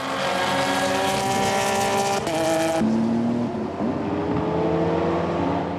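GT race cars battle at close quarters, engines screaming and revving loudly as they pass, with shifting pitch and a sharp change as one car goes by and another follows.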